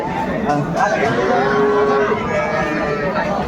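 Cows and calves, including Sahiwal cattle, mooing at the Aftabganj cattle market, with long, loud, drawn-out bellows close by over a constant murmur of crowd chatter.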